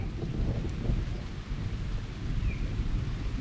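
Thunder rumbles low and continuous during a dry-season storm near bamboo scrub, a steady deep roll with rain-like noise over it and no voices.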